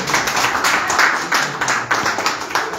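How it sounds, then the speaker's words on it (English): Hands clap in a steady, even rhythm, about three claps per second, close and fairly loud with no other sound. "Consistency in clapping hands will convince."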